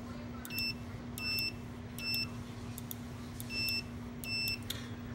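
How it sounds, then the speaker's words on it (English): A multimeter's audio continuity tester beeps while probing a micro switch from a Harman P61 pellet stove: five short, clear electronic beeps at a steady pace over a faint constant hum. "with the meter on it and the audio continuity set up"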